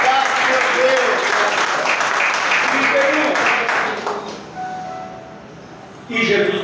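A church congregation breaks into applause during a sermon, dense clapping for several seconds that fades out, with a preacher's voice speaking over it and a brief burst returning at the end.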